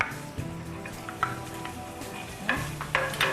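Garlic sautés in a pan with a soft, steady sizzle, punctuated by a few clinks and scrapes of a utensil stirring, heard up close without talking.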